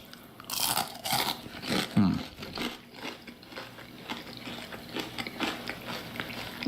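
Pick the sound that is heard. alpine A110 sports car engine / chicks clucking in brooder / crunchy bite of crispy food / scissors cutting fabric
crunchy bite of crispy food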